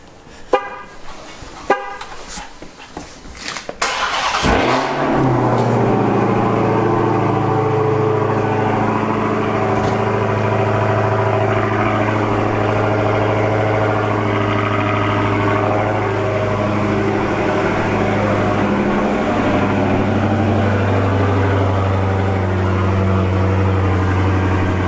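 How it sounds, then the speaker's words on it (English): A Dodge Hellcat's engine cranks and fires after a few sharp clicks, then settles into a loud, steady, deep idle that drones on without a break. "I'm going to start the car real quick."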